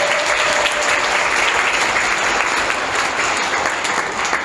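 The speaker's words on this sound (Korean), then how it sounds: "우리 박수로 환영하겠습니다." A church congregation at a Korean Sunday service claps together to welcome newcomers, dense and loud applause holding steady throughout.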